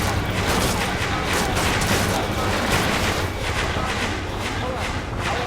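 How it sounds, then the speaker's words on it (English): Missile launches and explosions in the Ace Combat 7 combat flight game, a dense, loud, continuous barrage of rapid blasts and rumbling gunfire with radio voices talking over it. "Missile away."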